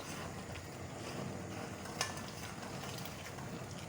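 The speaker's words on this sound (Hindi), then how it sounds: "और मिक्स करते हैं।" Sweet chutney being stirred in a pot on the stove, a steady sizzling bubble with soft scraping and one brief clink of the spoon partway through.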